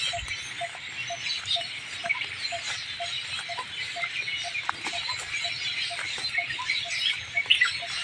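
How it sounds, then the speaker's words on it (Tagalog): Many birds chattering in a fruiting balete tree, a dense, steady mass of chirps and squawks with a repeating short call pattern, moderately loud and close, no talk over it. "Daming ibon."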